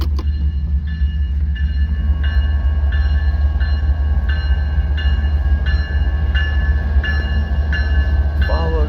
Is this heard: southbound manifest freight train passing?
yes